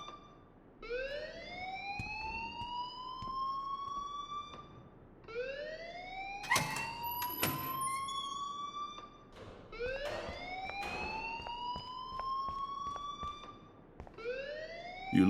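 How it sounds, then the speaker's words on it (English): Alarm siren in the video game Life Is Strange, a repeating rising electronic wail that sweeps upward every few seconds, loud and continuous, with sharp clanks and bursts of noise cutting through it. "please turn off that alarm since that's your job"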